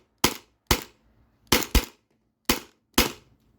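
A modified Sabre 68 HDL paintball marker running on a CO2 tank fires six sharp, close shots in an uneven rhythm, two of them a quick double tap, with near silence between.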